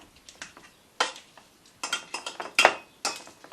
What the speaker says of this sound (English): So we're going to mash this like so